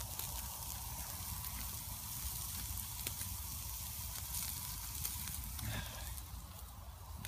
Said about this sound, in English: Bacon is coming along nicely.